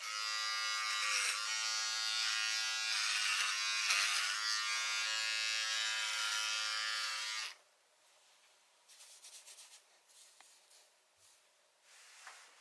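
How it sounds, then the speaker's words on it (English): Electric hair clippers buzz steadily and close by for several seconds, then switch off, leaving faint clicks and rustling. "To cut your own hair, you will need clippers with attachment guards"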